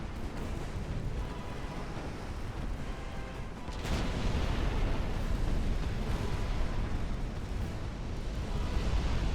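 Torpedo hits explode against warships in the naval battle game Ultimate Admiral: Dreadnoughts, a dense, continuous roar of rumbling blasts that swells louder partway through and carries on without letup, with no talking.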